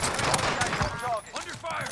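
Call of Duty Warzone gunfire pops in a quick rattling burst under a shouting voice, followed by whistling, chirping game effects.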